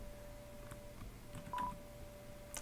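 Someone dials a landline phone in Deltarune Chapter 1, making a few faint, short tones and a steady hum in a quiet scene, with one clearer beep near the middle.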